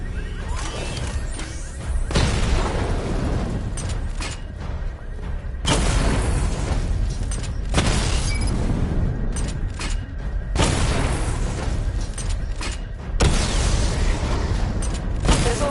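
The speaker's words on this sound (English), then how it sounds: "Charge the missile barrage to level 2 to destroy up to 4 targets at once" Repeated heavy missile barrage explosions in Batman: Arkham Knight, loud rumbling booms in long sustained bursts with brief gaps between volleys.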